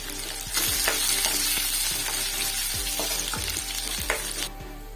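Curry leaves and onions frying in hot oil for a sambar tempering, a loud, steady sizzle with sharp crackles and spatters as the leaves go in, punctuated by a few stirring scrapes.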